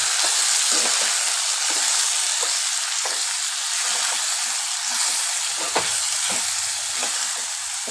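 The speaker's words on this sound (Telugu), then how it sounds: "బాగా ఫ్రై అయ్యేదాకా వేయించుకోవాలి" Brinjal and small fish curry frying in a pan with salt and coriander makes a loud, continuous sizzle, with light scraping ticks of stirring throughout.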